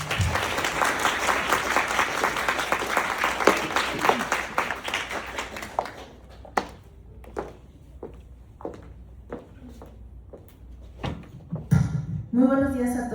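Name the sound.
audience applause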